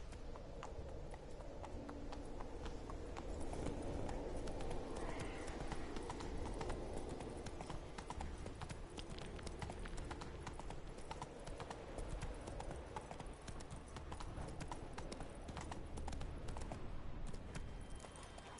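Roach, a horse in the Witcher 3 video game, gallops steadily with rapid, rhythmic hoofbeats that stay loud and close throughout, under a constant background rumble.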